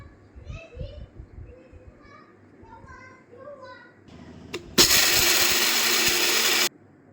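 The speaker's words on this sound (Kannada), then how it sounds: "ಶೇಂಗಾ ಹುರಿದು ಮಿಕ್ಸಿಗೆ ಹಾಕ್ಕೊಳ್ಳೋಣ." A kitchen mixer grinder grinds roasted peanuts: a loud, steady whirring burst of about two seconds that stops abruptly, preceded by children talking nearby.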